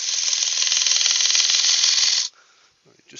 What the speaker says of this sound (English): I'm going to use my smaller gouge just for this little area here